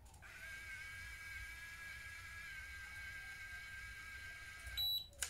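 A L'Liss Curly cordless automatic hair curler gives one long, continuous high beep that holds steady for several seconds before cutting off, faint and close.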